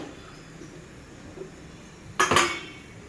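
A bowl handled in a kitchen while ghee goes in for ragi sangati, a short sharp clatter of metal dishware near the end, loud and close after a quiet stretch.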